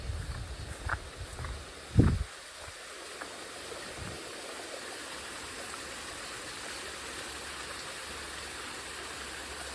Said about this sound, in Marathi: बघा आवाज येतच असेल पाण्याचा